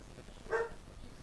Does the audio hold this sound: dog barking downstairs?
yes